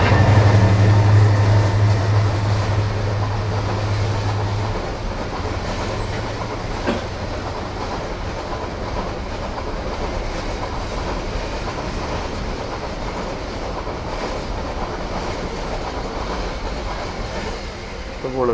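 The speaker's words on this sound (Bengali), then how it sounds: "বড় ট্রেন।" A big train rolling past, a steady, loud, close rumble and clatter of cars and wheels that carries on without a break, with a low hum fading out early.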